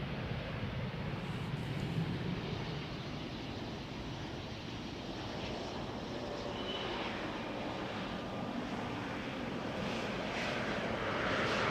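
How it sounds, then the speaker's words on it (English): An Embraer 190 airliner passes at an airport: a steady, distant engine roar that holds even throughout, with no other sound standing out. "That's an Embraer 190."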